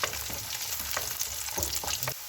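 Onions and dried red chillies sauté in hot oil for rasam, a close, continuous crackling sizzle broken by several short stirring scrapes, with nobody talking.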